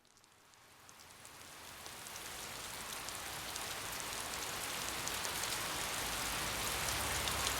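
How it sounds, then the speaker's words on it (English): Rain falls in a forest at night in the Piofiore visual novel, a steady hiss that starts soft and swells gradually louder until it fills the scene. "At some point it had begun to rain"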